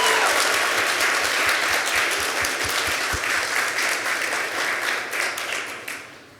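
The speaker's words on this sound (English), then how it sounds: "If we could get a round of applause for her." An audience at a youth entrepreneurship competition applauds steadily for a competitor, a dense sustained clapping that fades out near the end.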